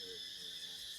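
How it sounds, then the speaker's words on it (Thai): Cicadas drone in a continuous, even, high-pitched buzz that holds steady throughout at a moderate distance, with no other sounds standing out. "มีแต่จักจั่น"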